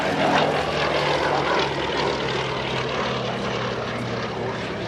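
A propeller aircraft flies past at the Duxford Flying Legends air show, its steady, loud engine drone holding throughout with a broad rumbling roar and no speech.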